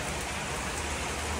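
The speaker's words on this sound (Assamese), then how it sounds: "পুৰা বৰষুণ পানী পৰা দি পৰিছে আমাৰ ঘৰত" Heavy rain pours onto the tin roof of a house, a dense, loud, unbroken patter that fills the whole stretch with no voices.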